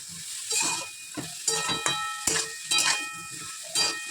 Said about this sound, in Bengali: সবজিটা আমার ভাজা হয়ে গেছে